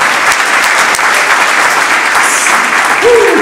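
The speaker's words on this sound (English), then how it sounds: "another round of applause" Loud, close applause from an audience, dense continuous clapping at a steady level, with a brief rising whistle or cheer near the end.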